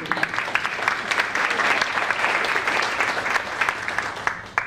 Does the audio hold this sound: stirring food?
no